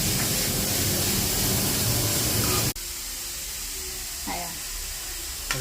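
Cabbage sizzling while being stir-fried for fried rice: a loud, steady hissing fry that suddenly drops to a quieter, continuous sizzle halfway through, with faint clinks near the end.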